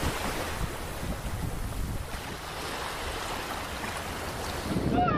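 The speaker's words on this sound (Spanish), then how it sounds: "solo vientos y el sonido constante de las olas en su encuentro con la orilla rompen la tranquilidad" Ocean waves break steadily on the shore at Los Órganos beach in Máncora, northern Peru, while wind blows across the microphone, forming a continuous loud wash of surf with no voices.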